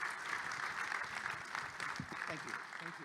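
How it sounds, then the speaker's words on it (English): Audience applause at a capital markets forum session, a steady dense round of clapping filling the room with a few faint voices underneath. "A warm round of applause."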